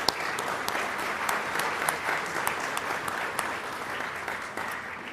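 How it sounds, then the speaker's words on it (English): Steady, even applause from a conference audience at a military keynote event rolls on without a break, with a few sharper claps close by. "How about a round of applause for our great sponsors?"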